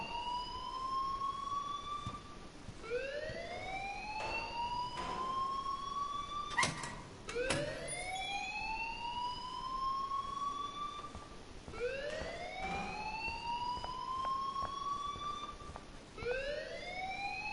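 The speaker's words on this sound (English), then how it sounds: "please turn off that alarm since that's your job" An alarm rings in the video game Life is Strange, a rising electronic wail that repeats every two to three seconds, steady and unbroken, with a few sharp clicks between cycles.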